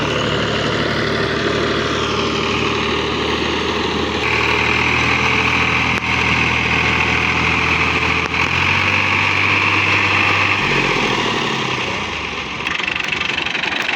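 A tractor engine runs nearby as the vehicle is straightened. It drones steadily and loudly, with the pitch and load shifting a few times as the revs change.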